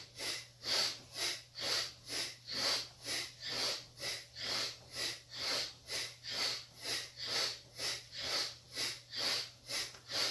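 Rhythmic yoga breathing during a Kundalini exercise, with about twenty sharp, forceful nasal exhales pulsing steadily and evenly, close and alone over a faint low hum.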